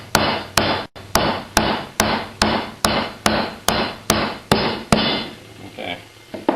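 Eleven sharp, evenly spaced hammer blows strike a Cetme HK flat being driven into a steel bending jig, loud and close, each impact ringing briefly before the next, with a short gap near the start.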